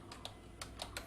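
Keys tapped on a computer keyboard while typing text into a WordPress site, a handful of separate clicks spaced irregularly over a quiet background.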